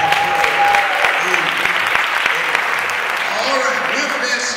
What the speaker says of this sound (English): Give this choir another hand clap of praise.